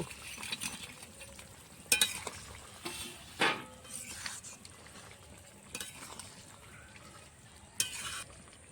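Fried rohu fish pieces go into a simmering potato curry in a pan, with soft bubbling and faint sizzle, punctuated by occasional sharp clinks and scrapes of a utensil against the pot.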